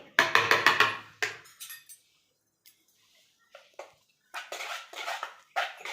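Moong dal batter for a moonglet being stirred in a bowl: short bursts of spoon clinking and scraping against the vessel, separated by quiet pauses.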